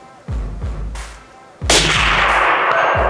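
Sauer 100 suppressed rifle fired at a steel gong 250 m away: sharp muffled reports followed by a loud, ringing metallic impact with lingering outdoor echo.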